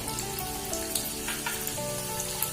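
Urad dal and chana dal fry in hot oil with mustard seeds, giving a steady faint sizzle with scattered small pops and crackles, while soft music plays underneath.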